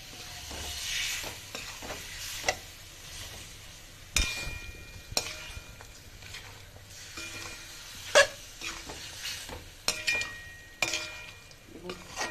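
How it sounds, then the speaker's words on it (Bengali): Small chicken pieces fry in an uncovered pan, giving a soft, steady sizzle broken up by stirring scrapes and occasional utensil clinks against the pan. "আর ঢাকা না দিয়ে একে একটু ভাজবো আমি 2-4 মিনিট।"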